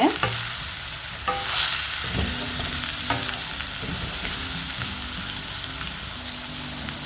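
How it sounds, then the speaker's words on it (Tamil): Brinjal pieces sauté in oil with garam masala. A close, continuous sizzle is broken by repeated scraping and knocking as a spatula stirs the pan, and no one speaks. "இப்போ இதை வந்து நம்ம இந்த எண்ணெயிலே நல்லா வதக்கிக்கலாம்"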